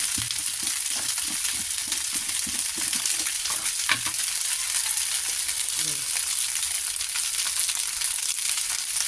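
Leftover rice sizzles steadily in a hot pan as it fries into salted fried rice, with quick rhythmic stirring scrapes during the first few seconds and a brief faint voice midway.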